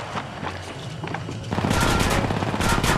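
Gunfire in the mobile battle royale Apex Legends Mobile: scattered shots at first, then from midway a loud, sustained burst of rapid automatic fire, close and dense.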